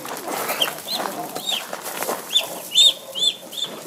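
Small ducklings make high, repeated peeping calls while being scooped up at bedtime, with soft rustling and handling noise around them and a cluster of sharper peeps near the end.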